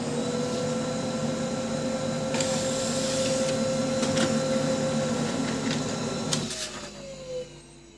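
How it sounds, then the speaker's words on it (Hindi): A Brother DCP-L2540DW laser printer runs off a user settings page with a steady mechanical whir and hum throughout, light clicks and rattles on top, then the motor winds down near the end; no talking. "यूजर सेटिंग प्रिंट करता हूँ किस तरह का निकलता है।"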